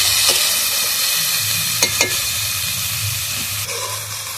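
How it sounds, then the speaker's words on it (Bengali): Pumpkin greens stirred in hot oil in a pan, with a continuous bright sizzle and a few scraping stirs, close and steady without speech. "সবজিটা ভালোভাবে আমি তেলের মধ্যে কষিয়ে নিয়েছি।"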